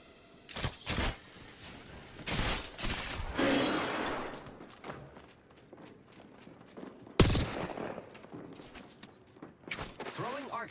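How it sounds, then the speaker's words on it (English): Gunfire in the battle royale shooter Apex Legends, with scattered bursts and single cracks of varying loudness across a busy firefight, mixed with in-game voice lines and other combat noise. "I'm under fire"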